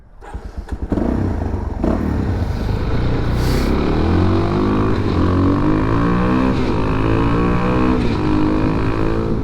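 A Suzuki DRZ400 motorcycle engine runs close by after a few sharp knocks at the start, holding a loud, steady idle with rhythmic throbbing pulses and slight rises in revs throughout.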